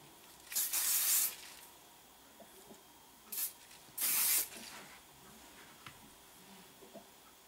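Two strong hissing bursts of aerosol hairspray, plus a shorter one between them, against a quiet room.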